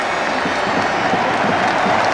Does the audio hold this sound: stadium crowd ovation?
yes